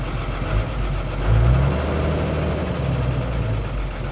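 A trailer truck's engine being started and revved, producing a loud, close, low diesel rumble that swells briefly before settling into a steady idle.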